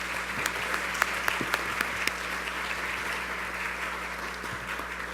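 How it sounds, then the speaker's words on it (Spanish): An audience at a crime and violence discussion panel applauds. The applause is steady and fairly quiet, heard from a distance, with a constant low hum beneath it and a few sharper individual claps standing out. "Les mandamos un fuerte aplauso, por favor."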